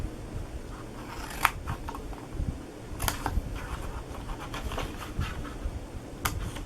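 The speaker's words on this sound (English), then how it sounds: "I'm just going to use my large scissors and try to get it straight" Large scissors cutting through card for a hanging water bottle box, giving several sharp separate snips spaced a second or two apart over a steady low background hum, close and fairly quiet.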